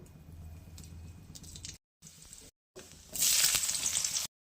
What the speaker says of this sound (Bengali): একটা শুকনো লঙ্কা ফোড়নে দেবো